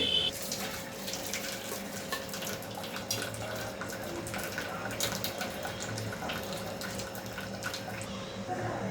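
Water drains steadily from a vessel of banana flower soaked in sour buttermilk, making a continuous, fairly quiet pouring and trickling sound for several seconds.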